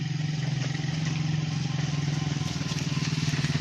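A motorcycle engine runs nearby at a steady idle with an even, rapid pulsing throb and light mechanical clatter throughout.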